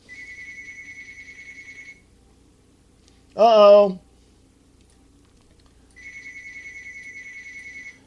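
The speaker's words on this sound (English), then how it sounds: "Phone's ringing." A telephone rings in two bursts of steady electronic trilling, separated by a gap where someone briefly speaks; the ringing is clear and fairly close.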